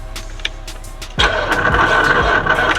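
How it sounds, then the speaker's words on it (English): A 1987 Oldsmobile Cutlass, left sitting for 25 years, is cranked but fails to start: a faint click, then a loud, steady starter churning with rhythmic pulses that never catches. "Oh no, it don't want to crank."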